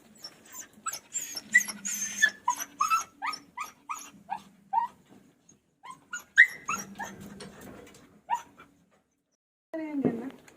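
A dog outside whimpers and yips in a long run of short, high, pleading cries that rise and fall in bursts, fairly close, with a gap near the end before a final whine.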